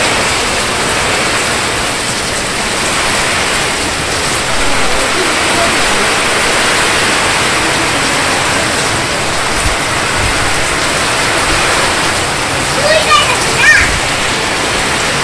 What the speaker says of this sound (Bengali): আর যেভাবে বৃষ্টি নামছে আমার মনে হয় না এই বৃষ্টি কমবো